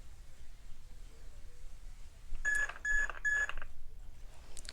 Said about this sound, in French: Jusqu'à temps que ça fasse bip, bip,